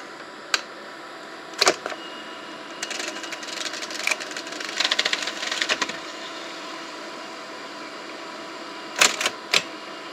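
A National NV-5130 EIAJ-2 cartridge video tape recorder runs a tape, giving faint mechanical whirring broken by sharp clicks and clunks from the transport, with a few louder knocks near the start and the end.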